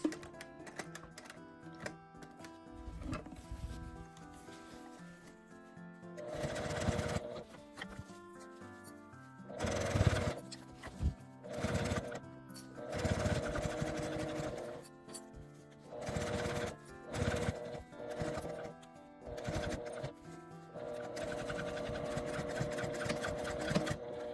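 A domestic sewing machine stitches a fabric makeup bag with pockets, running in short bursts with pauses between, fairly close and moderately loud; at thick overlapping seam allowances it is turned slowly by the handwheel.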